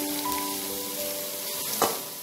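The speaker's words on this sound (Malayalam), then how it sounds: "ഇനി അതിലോട്ട് നമുക്ക് സവാള, നമ്മൾ അരിഞ്ഞു വെച്ചിരിക്കുന്ന സവാള ചേർത്ത് കൊടുക്കാം." Sliced onions crackle and sizzle steadily in hot oil in a pan for a Malabar prawn biryani. A faint tonal hum runs underneath, and one short scrape or clink comes near the end.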